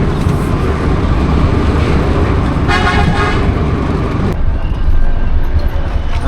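Loud, busy street traffic outside Kolhapur railway station rumbles steadily, with a car horn tooting partway through amid engine noise.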